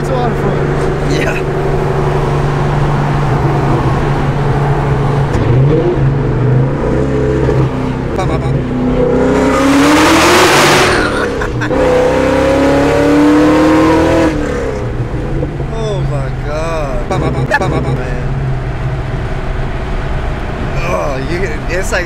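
A supercharged Ford Mustang SVT Terminator Cobra of about 530 horsepower revs hard, its engine rising to a loud peak with a high supercharger whine on top before easing off, heard from inside the car with people talking over it.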